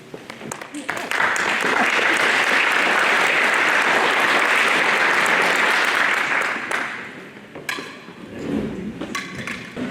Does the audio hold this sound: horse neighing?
no